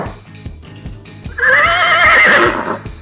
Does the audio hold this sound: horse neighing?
yes